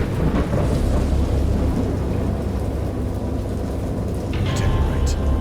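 A thunderstorm in the video game Dagon rumbles as low thunder rolls under steady heavy rain, loud and continuous from start to finish, with a few brighter crackles near the end.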